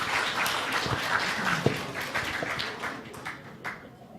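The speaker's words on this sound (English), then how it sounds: "Let's give them a round of applause." An audience applauds at a hackathon demo day stage event, giving a steady wash of many hands clapping for several seconds that gradually thins out.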